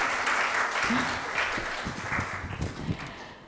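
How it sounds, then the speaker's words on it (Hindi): Audience applause at the Hamdard Naunehal Assembly in Karachi welcomes a hospital medical director: a steady, fairly loud wash of clapping that fills the hall, with some voices mixed in. "तालियां होनी चाहिए"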